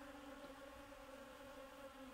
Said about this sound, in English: allowing the bee to roam around the shop freely